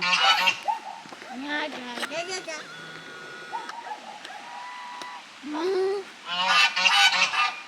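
Several geese honk loudly and repeatedly nearby on a rural trail in northern Alicante, Spain, their nasal calls overlapping in bursts, with a person speaking briefly among them.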